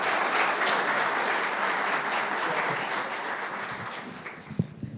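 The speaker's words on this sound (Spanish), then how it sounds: "Pero un aplauso por esta gran" A seated audience applauds a business administration talk, dense steady clapping filling the room for the whole stretch and thinning slightly at the end.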